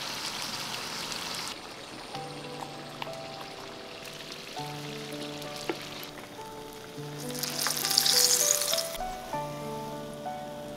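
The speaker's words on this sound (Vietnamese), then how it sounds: "Mình chiên trên lửa vừa đến khi cà chín vàng giòn" Oil sizzles and crackles steadily as eggplant fries in a pan, with a soft clink and gentle stirring noises over the continuous hiss.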